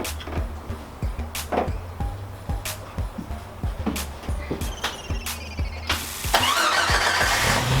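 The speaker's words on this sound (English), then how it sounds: "we still need to start the engine and run a little oil through the filter" A Jeep Wrangler engine cranks and starts during an oil change in a garage, with irregular clicks and clanks at first, then a rising, steady idle toward the end, heard at moderate distance.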